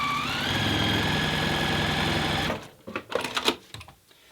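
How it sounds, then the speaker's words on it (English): Domestic sewing machine runs steadily as it stitches a quilt block seam for a 10-inch lava lamp block, a loud continuous motor whir that stops midway, followed by brief fabric handling noises. "Now I can stitch straight across."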